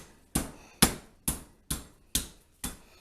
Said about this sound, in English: Now we're going to pound this out a little bit with the hammer.